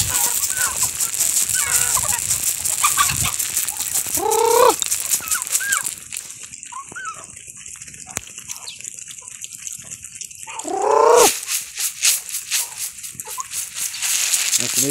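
Chickens on a rural farm cluck and warble nearby in bursts as they are called to eat corn, with splashing, water-like noise and scratching around them.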